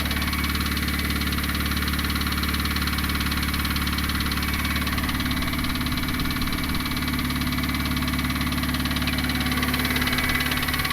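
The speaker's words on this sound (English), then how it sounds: "There's a lot of noise on the engine now, and" A turbocharged Honda Civic engine with a blown, knocking motor idles roughly and loudly up close, a constant droning rumble with a faint repetitive knock running underneath.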